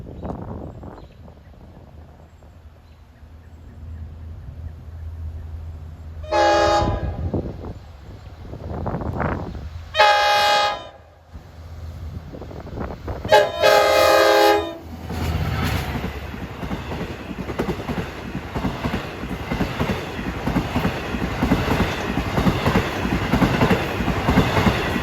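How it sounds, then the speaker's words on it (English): Long Island Rail Road train on the Montauk Branch sounding its K5L horn, engine 510: several loud sustained horn blasts in separate bursts, followed by the rumble and clatter of the passing train, with wind noise on the microphone. "Listen to that K5L horn."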